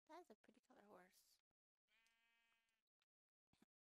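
Sheep bleating in the Minecraft video game, a couple of short close bleats at the start followed by a brief tone and near silence.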